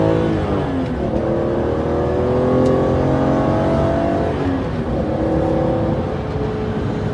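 A bone-stock BMW E46 M3 drives along, its engine note rising through the revs, dipping briefly, then climbing again, heard up close and steady with no voices.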